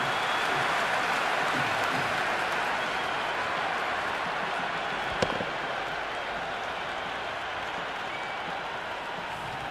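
Steady crowd buzz rising from the stands at a cricket match in the video game Cricket 26, a dense, even roar holding throughout with a single brief sharp knock near the middle.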